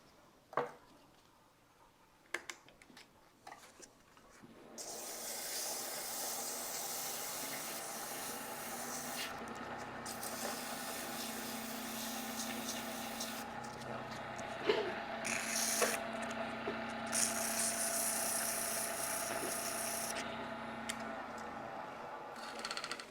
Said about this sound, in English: And now we'll sand this one.